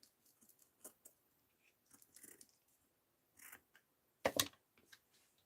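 Scissors snip through paper in a quiet room: a handful of short, crisp cuts spaced irregularly, with one louder, sharper snip near the end.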